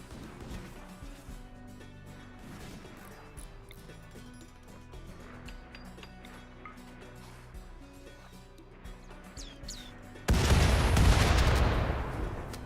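Video game combat on a map made entirely of shallow water, with scattered gunshots and booming rocket blasts. A dense rumbling explosion bursts in near the end.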